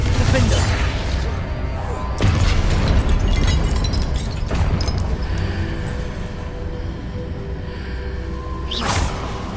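Fiery Confringo spell blasts burst in the video game Hogwarts Legacy, with several loud booming explosions spaced a couple of seconds apart over rumbling game ambience.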